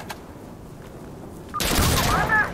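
Gunfire in Insurgency Sandstorm erupts abruptly after a quiet stretch: a loud, close burst of rapid shots and crackling rounds filling the final second, with a brief whistling tone riding over it.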